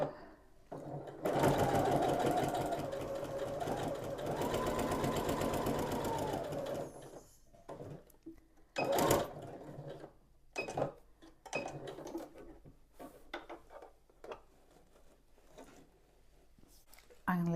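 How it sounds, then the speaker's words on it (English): A sewing machine back stitches the fabric of a storage bucket in one loud, steady whirring run of several seconds, then stops. A person talks quietly afterward. "I'm going to do a little back stitch, leave my gap, and then start again there."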